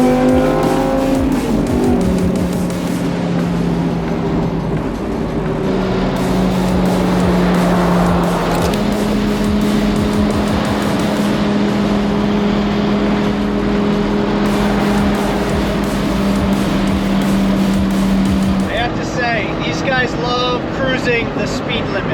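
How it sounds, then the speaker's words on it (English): A cheap Lamborghini cruising onto the highway drones steadily up close, its engine tone rising and shifting through gear changes, with someone talking over it throughout. "My first Lamborghini cruise. Getting on the highway now"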